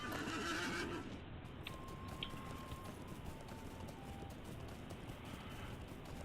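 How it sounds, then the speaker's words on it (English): A horse whinnies in the Lord of the Rings Online video game, a short neigh at the start, then steady galloping hoofbeats over a constant background wash, fairly faint. "I can ride my horse."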